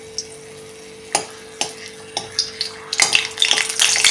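Bay leaves and star anise sautéing in oil for a Maharashtrian white rasSa, spaced utensil clinks and soft sizzles that build to a brighter, louder spitting crackle toward the end.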